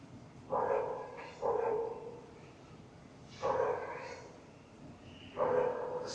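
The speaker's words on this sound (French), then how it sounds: "Je sais pas si vous entendez le chien de merde qui aboie depuis tout à l'heure." A dog barks repeatedly somewhere outside a balcony in Vietnam, four spaced double barks at a moderate distance over a steady background hum.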